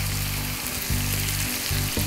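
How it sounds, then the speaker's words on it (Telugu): Chicken and broad beans frying in a pan give off a loud, steady sizzle and crackle, with low clattering pulses, likely from stirring, recurring through the hiss. "సో 10 మినిట్స్ ఫ్రై చేసుకున్నాం కదా"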